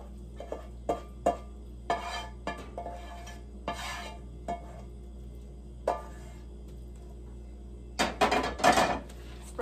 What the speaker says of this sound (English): So we take our meat mixture, we literally just lay it in the pan.